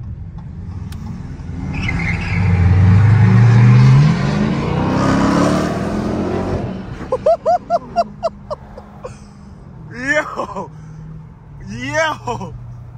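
A 500 HP Dodge Scat Pack V8 with a new exhaust revs hard and accelerates in a loud rising roar for several seconds. It then drops back while voices and short vocal sounds follow.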